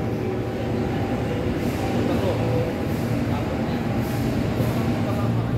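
A KRL commuter train in Indonesia, heading out of Bekasi station toward Kranji, rolls along with a steady, loud rumble and rattle all the way through, and muffled voices sit underneath.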